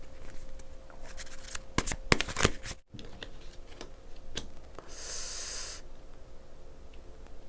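Tarot cards shuffled and drawn by hand, a run of sharp riffling flicks and card slaps early on, then a soft steady brushing hiss of cards sliding, close and fairly quiet with no talking.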